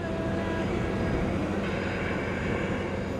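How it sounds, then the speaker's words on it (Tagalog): A chartered plane carrying returning overseas workers from Egypt lands at NAIA Terminal 1, its engines a steady, loud broadband roar that fills the whole stretch without a break. "lumapag na nga sa NAIA Terminal 1 itong chartered plane na may lulan nga sa 180 OFWs mula sa bansang Egypt"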